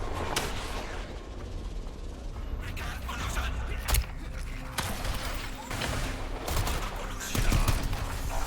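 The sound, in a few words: gunfire in the video game Strider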